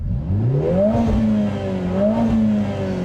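A 2025 Lotus Emira 2.0T in track mode revs from inside the cabin, its engine sitting right behind the seats: two rising blips of a loud, close turbo four-cylinder hum over a steady idle.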